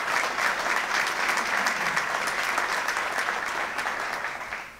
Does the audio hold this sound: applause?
yes